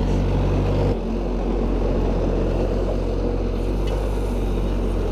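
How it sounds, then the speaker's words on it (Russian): A small front loader tractor works a site, lifting crushed stone and screenings; its engine gives a steady, close, low drone that eases slightly after the first second, with no talk. "И вот мы его поднимаем наверх вот таким тракторцем"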